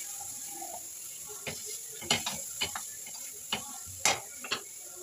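Crab legs are stirred in a pan for a crab leg soup, with scattered sharp clicks and scrapes of the utensil over a faint, continuous sizzle.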